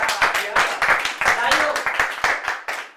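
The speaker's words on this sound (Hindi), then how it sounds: "शादी पर तालियां हो जाएं एक बार यार" Sharp, dense clapping from a live stand-up comedy audience, steady and fairly close, continuing for a few seconds.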